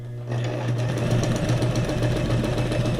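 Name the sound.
sewing machine running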